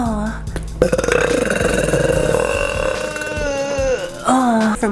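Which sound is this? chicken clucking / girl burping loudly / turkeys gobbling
girl burping loudly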